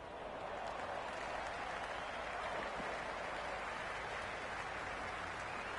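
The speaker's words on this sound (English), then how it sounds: "Will you listen to that crowd? They are loving this." A video game cricket stadium crowd cheering and applauding in a continuous, dense roar, steady throughout with no breaks.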